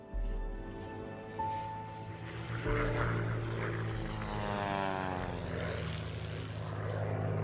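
A heavy propeller airplane of more than 3.5 tonnes takeoff weight accelerates for takeoff. Its steady, loud engine drone rises in pitch and grows fuller as the run builds, continuous throughout with no voices.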